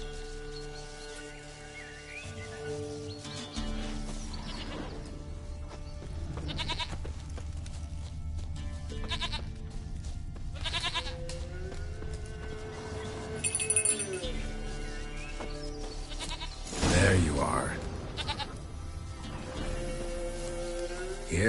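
Goat bleats in The Witcher 3: Wild Hunt, a few calls rising over an ambient game soundscape with a soft clinking bell and someone speaking briefly.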